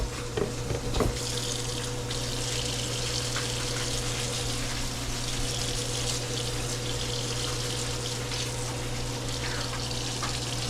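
Tap water runs steadily into a sink while a pan is cleaned in a home kitchen during gumbo preparation, a continuous close hiss with a steady hum beneath and no talking.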